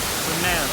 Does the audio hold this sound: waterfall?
yes